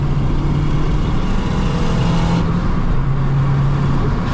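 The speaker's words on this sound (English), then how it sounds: "Fifth gear pull, let's go" Honda Civic FN2 Type R tuned to about 500 bhp, pulling hard in fifth gear, a steady loud engine drone heard from inside the car without a break, with no talking.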